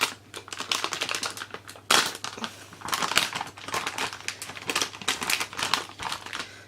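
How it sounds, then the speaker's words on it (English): A plastic packet of brownie cake mix torn open and handled, with close crinkling and crackling in irregular bursts and one sharp rip near the start, no voices. "So let's open the packet, see what's in the packet."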